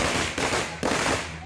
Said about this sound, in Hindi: नीतीश की ताजपोशी से खुश उनके गांव के लोगों ने जमकर आतिशबाजी की